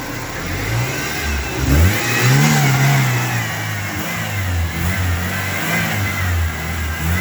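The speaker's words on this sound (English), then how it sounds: "Rev it up some more." A 1993 Ford S10 Ranger pickup with an idling problem revs its mid-pitched engine in one rising surge, then holds a steady, loud running drone close by, with no talk.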